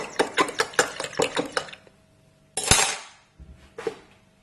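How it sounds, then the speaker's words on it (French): A utensil stirs and clinks briskly in a container of hot water with dish soap, used to degrease model kits, in a quick rapid series of clatters, then a sloshing swirl and a few softer knocks. "avec de l'eau chaude et du liquide vaisselle, en mélangeant bien"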